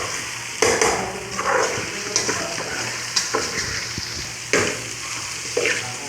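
Green chilies sizzle in a pan with ginger, garlic and onion, a constant frying hiss broken by repeated scraping stirs of a utensil at a loose, irregular pace, close and fairly loud, without speech.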